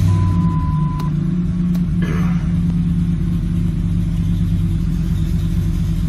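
A Ford F-150 with the 5.4L 3-valve Triton V8 idling rough with a misfire, a loud, steady low engine rumble with an uneven undertone and a couple of sharp clicks near the start.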